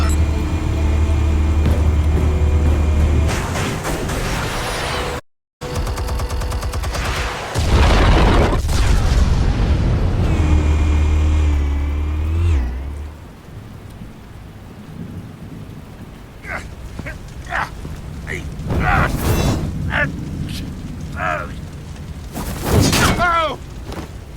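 Explosions in Batman: The Telltale Series, heavy rumbling blasts with a sustained low roar, cut by a sudden dropout. A second booming stretch follows, then quieter debris crackle and sharp impacts near the end.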